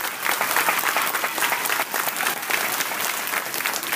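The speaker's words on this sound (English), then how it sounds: "That deserves a round of applause." An elementary school audience claps together in a short, dense burst of applause, steady and full throughout, with no talk over it.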